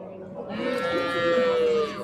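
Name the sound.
cows mooing at a cattle market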